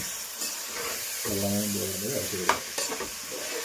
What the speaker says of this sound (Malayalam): അരി നന്നായി ഇളക്കി കൊടുക്കുക.